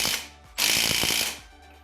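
A hand ratchet tightens a nut on a Toyota AE86 Corolla suspension strut during a TRD short-stroke conversion: close, crisp rapid clicking in two short bursts, the second longer, with no one talking.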